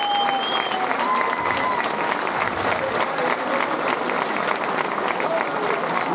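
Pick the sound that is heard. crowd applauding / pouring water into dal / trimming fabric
crowd applauding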